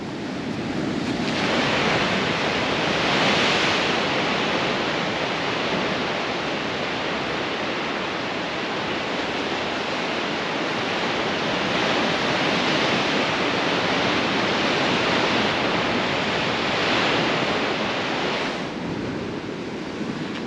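Ocean waves crash far below coastal cliffs on Tasmania's east coast, a continuous roaring surf wash with swelling surges and wind buffeting the microphone.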